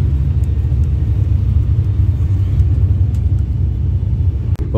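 A bus engine rumbles low and steady from inside the coach as it pulls away from Divinópolis, a continuous deep drone with road noise and faint rattles.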